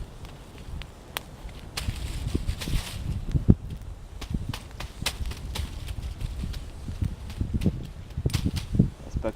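A quick campfire burns outdoors in the open, giving irregular sharp crackles and pops at close range over a soft low rush, with no talking.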